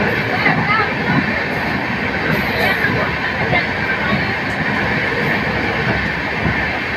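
A passenger train rolls across the long Bogibeel bridge between Dibrugarh and Lakhimpur, heard from inside as a loud, steady rumble with a rattling undertone, while a person talks over it.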